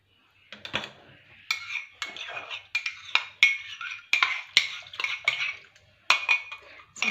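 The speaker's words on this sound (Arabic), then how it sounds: "هاني درت الخميره ديالي هنايا، زيد شويه ديال الماء، نحرك" A spoon stirs yeast and water in a drinking glass, giving a run of close, bright clinks and scrapes in irregular bursts, with no talk.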